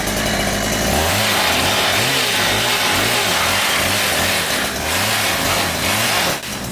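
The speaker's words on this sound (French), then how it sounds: "J'essaie de couper l'herbe, vous entendez? Dites-moi si ça marche, car le moteur ne fonctionne pas" A malfunctioning lawn mower engine revs loudly and close up in rhythmic surges of rising and falling pitch over a continuous rough drone, then cuts off abruptly at the end.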